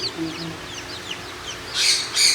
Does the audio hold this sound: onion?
no